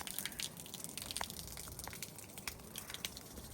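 Water gushes steadily from a park drinking tap in Japan, a faint continuous splashing flow with occasional small drips and clicks, heard alone outdoors.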